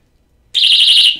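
An alarm clock goes off with a piercing, steady high-pitched electronic tone that starts abruptly and sounds loud and close.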